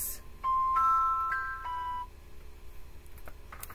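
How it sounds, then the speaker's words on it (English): A bell rings with a few bright, sustained overlapping tones lasting about a second and a half, then fades into quiet room noise. "that's the ringing of the bell"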